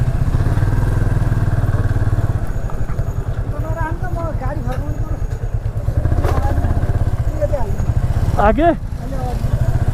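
A Yamaha FZS25 motorcycle engine drones steadily and loudly up close as it is ridden slowly toward parking near the Muktinath gate in Mustang, Nepal, with a voice talking over it.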